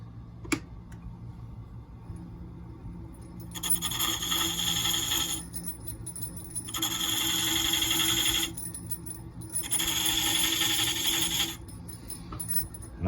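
A triangle carbide cutter scrapes glue grooves into a duck call barrel, giving three distinct rasping bursts of about two seconds each, separated by short pauses, close and fairly quiet.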